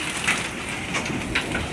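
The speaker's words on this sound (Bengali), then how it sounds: "এই দেখো শিলা বৃষ্টি হচ্ছে।" Hail pelting down steadily during a hailstorm on a farm, a continuous broadband patter with a few louder impacts, heard alone at moderate level.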